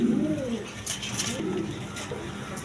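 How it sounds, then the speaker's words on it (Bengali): A pair of army pigeons cooing, several soft, low, rolling coos repeated in short phrases, close and fairly quiet. "এইখানে এক পেয়ার আপনার আর্মি কবুতর আছে দেখেন"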